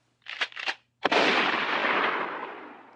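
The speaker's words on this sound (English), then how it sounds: "Leave a message at the gunshot." Two short whooshing bursts come first, then a single sharp gunshot cracks loudly and trails into a long, fading echo.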